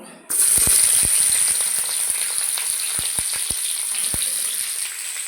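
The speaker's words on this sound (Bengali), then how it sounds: "ওই তেলেই আমি পটলগুলোও ভেজে নেব" Pointed gourd (potol) drops into oil already used for frying potatoes, setting off a sudden loud, bright sizzle that holds steady with scattered crackling pops.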